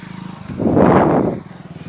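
A motorcycle passes along a village road in Hoshiarpur district, Punjab, its engine swelling quickly from near silence to a close roar and fading away within about a second.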